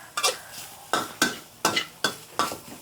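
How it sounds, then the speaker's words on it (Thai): Curry paste stir-fried in a little pork fat in a wok, with six rhythmic scraping strokes about every half second, each one rising into a brief sizzle, loud and close with no talk. "พอได้ไอ้คั่วเครื่องแกงให้หอมๆค่ะ"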